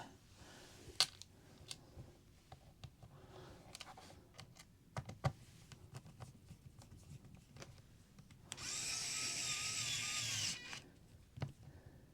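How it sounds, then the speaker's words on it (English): Screws are driven back into an ASUS X505BA laptop with a quiet electric screwdriver, heard as scattered small clicks and taps, then a single whining run of about two seconds, faint and close. "We're just putting the screws back in"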